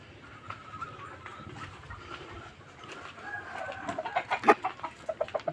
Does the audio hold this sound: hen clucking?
yes